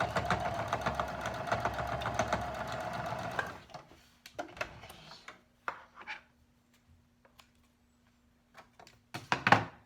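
A sewing machine stitches both sides of a pleated two-layer cloth face mask at a 1/4 inch seam, running steadily for a few seconds, then a short run and scattered handling knocks, thumps and rustles of fabric, with no talk.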